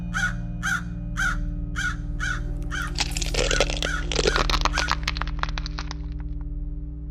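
A crow in an analog horror story caws five times in a steady rhythm, followed by a burst of crackling, crunching noises.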